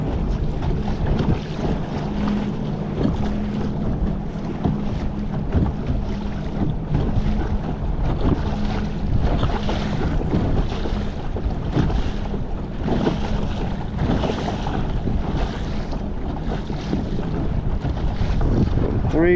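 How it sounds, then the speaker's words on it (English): Gusty wind buffets a kayak pushing into choppy water under a trolling motor, with a low steady hum beneath. A loud, unbroken rush of wind noise and lapping water runs throughout. "I knew it was going to be a windy day"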